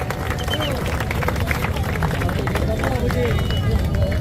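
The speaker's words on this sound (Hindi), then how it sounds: "जोरदार तालियों में इस्तकबाल करें मेरे भाई" A crowd at an AIMIM political rally in Maharashtra claps loudly and steadily, dense applause filling the whole stretch with background crowd murmur.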